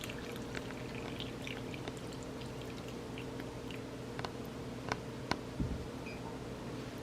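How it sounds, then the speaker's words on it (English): Milk poured into a mug over a hot chocolate bomb, a soft steady liquid trickle running throughout with a few small clinks and taps, close and fairly quiet over a low background hum. "put it in the mug and pour some milk on top"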